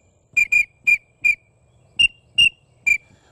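A series of seven short, sharp whistle notes from a pintail duck whistle call, clipped and evenly spaced, with a brief pause midway, close and loud.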